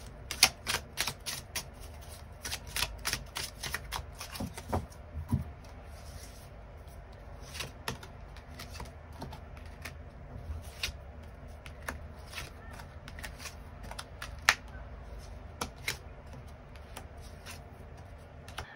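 Tarot cards are shuffled close by in quick, irregular riffling taps and flicks that run steadily for about nineteen seconds with no talk.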